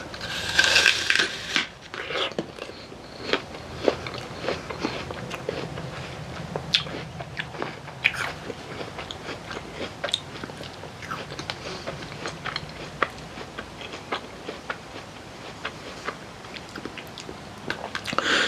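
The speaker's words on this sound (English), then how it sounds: "we're gonna take a bite of this pink lady" Crisp, close crunches of teeth biting into a hard, juicy Pink Lady apple, followed by steady wet chewing that goes on alone at an even, moderate level.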